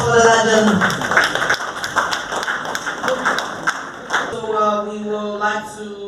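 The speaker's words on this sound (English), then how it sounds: "A round of applause for the legend" An audience at an awards night in Monrovia, Liberia claps in a loose, uneven patter, with music and voices mixed in and the clapping thinning out near the end.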